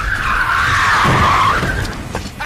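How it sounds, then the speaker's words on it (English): Tires on a Chevy Caprice 9C1 police sedan squeal loudly in one sustained skid as the car spins from reverse in a J-turn, fading toward the end. "The key to doing a Rockford is to nail it in reverse."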